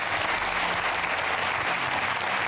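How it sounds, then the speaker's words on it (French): Steady applause from a television studio audience, dense and continuous clapping at moderate volume with no voices standing out. "Je voudrais vraiment que tout le monde applaudisse très fort Rose"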